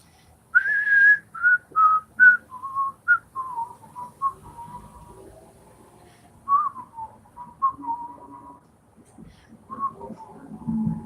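A person whistles a melody in clear, sustained notes, phrase after phrase with short pauses, fairly close and unaccompanied.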